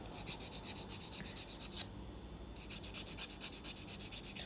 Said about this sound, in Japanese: ちょっとエミリーボードで、